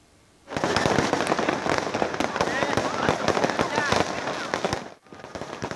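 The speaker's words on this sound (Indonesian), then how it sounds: "Letusan kembang api terus mewarnai langit Kota Makassar" Dense bursts of New Year's Eve fireworks over Losari Beach, Makassar pop and crackle in rapid, overlapping succession, loud and continuous after a quiet start, with crowd noise underneath.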